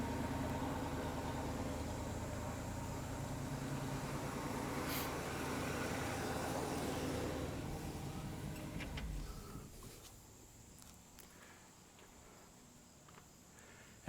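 A 1965 Pontiac Bonneville with a 389 four-barrel V8 idles steadily on old gasoline, a low continuous rumble that fades noticeably quieter after about nine seconds, with faint crickets in the background.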